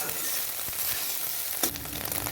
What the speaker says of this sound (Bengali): তাই আলাদা এক্সট্রা করে ভেজে নিচ্ছি